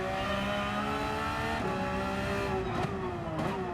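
A race car in Gran Turismo 7 drones steadily with a high, tonal engine note that dips and shifts as the driver brakes toward a corner, with faint tire noise near the end.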